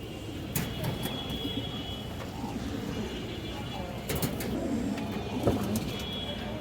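Pigeons coo continuously in a loft where birds are sold, low murmuring calls overlapping close by, with scattered wing flaps and clatter and a voice talking in the background.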